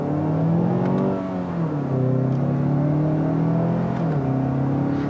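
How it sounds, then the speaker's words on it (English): A 2018 Mazda6 2.5T Signature's turbocharged engine accelerates, heard from inside as a steady droning hum that climbs in pitch, drops at gear changes, and climbs again, loud and continuous with no talk. "the engine itself doesn't sound all that great."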